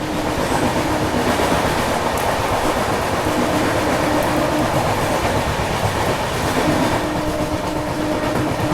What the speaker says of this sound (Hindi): तुरंत हमारी ट्रेन ने एक्सेलरेशन अब शुरू कर दिया है